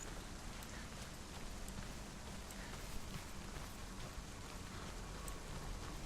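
Steady rain falls in the video game Hellblade: Senua's Sacrifice, a soft, even hiss of drops on surfaces, faint and continuous with no talking.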